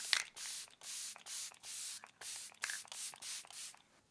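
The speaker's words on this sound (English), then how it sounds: "I'm gonna shake it and spritz the face." Stay All Night Microfine Setting Mist sprays onto a face in about eight short, hissing spritzes of steady rhythm, close and fairly soft, with no voice over them.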